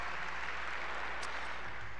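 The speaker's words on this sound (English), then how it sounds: "You can clap for yearbook." Applause from a large audience at a high school graduation ceremony, a steady wash of distant clapping filling a big hall, fairly faint and uniform throughout.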